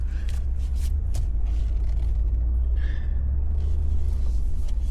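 A 2026 Ford F-150 V8 idles in the cold, a steady low engine rumble close by and fairly quiet, with faint intermittent higher noises over it.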